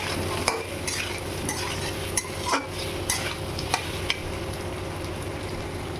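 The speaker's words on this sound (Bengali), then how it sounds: "এই যে দেখুন পেঁয়াজটা আমি আলুর সাথে ভেজে নেব" Onion frying with potatoes in a pan for an egg curry, with a constant sizzle of oil and several distinct scrapes and taps of a spoon stirring against the pan, close and without speech.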